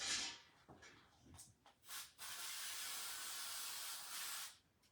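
An aerosol can of spray adhesive hisses in a few short bursts, then releases one long steady spray lasting about two seconds before stopping.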